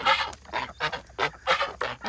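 Pet ducks and geese call nearby in a rapid series of short, nasal honks and quacks, about eight in quick succession, fairly faint and with no talk.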